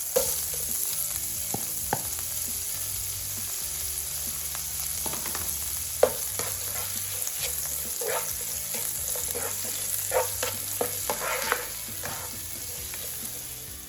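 Garlic fries in a hot pan for a chili crab dish, giving a steady, loud sizzle throughout with scattered crackles and a few sharp spatula scrapes and taps, and no talking.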